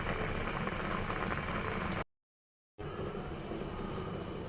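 Raw mango pickle bubbles in a covered pot, a dense steady boil that breaks off abruptly into a short silence before the same even bubbling resumes.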